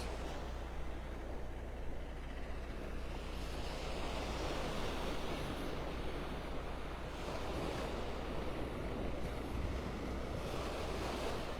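Constant surf washing on the mile-long Delnor-Wiggins beach in North Naples, Florida, a soft, even roar of breaking waves mixed with low wind rumble against the microphone, no voices.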